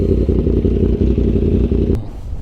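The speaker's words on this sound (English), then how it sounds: "Canyon riding with the Yamaha R1." A Yamaha R1 sport bike rides through a Malibu canyon, its engine droning loud and close with a steady, throbbing note. A brief click near the end is followed by a softer rumble.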